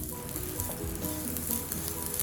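Grated coconut roasts in a hot pan, giving off a continuous soft sizzle and crackle at close range with no one speaking.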